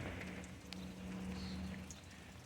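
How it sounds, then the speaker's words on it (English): Light outdoor drizzle patters steadily in a soft, even hiss with faint scattered drops, near a car mid-way through a four-barrel carburetor swap, with no voices. "It is drizzling a little bit out here"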